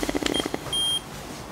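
An FS-700 infrared thermometer gives a short bright electronic beep as it finishes a temperature reading, heard clearly after a burst of handling clicks and taps, then fading into quiet room noise.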